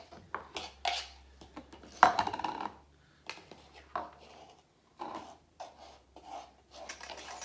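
Flour and brown sugar are added to a mug for a mug cake, with close, soft scrapes, taps and clinks of a measuring cup against the mug in short bursts, alongside a quiet voice.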